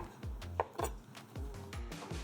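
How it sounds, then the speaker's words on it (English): A knife slices fresh king brown and shiitake mushrooms on a board, about seven crisp cuts falling in an even rhythm, close and clear with no talking. "So you still need to take that stem out and then you can slice them."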